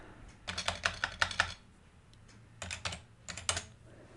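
Two quick bursts of clicking keystrokes on a computer keyboard as a purchase order ID is typed, close and clear, split by a short pause with no talking.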